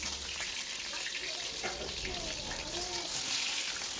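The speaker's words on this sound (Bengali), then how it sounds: "তেল গরম করে আলুগুলো ভাজার জন্য ছেড়ে দিয়েছি" Large-cut potato chunks fry in hot oil on a gas stove with a steady, dense hiss and bubbling, running continuously throughout with a few faint clinks and a soft voice in the background.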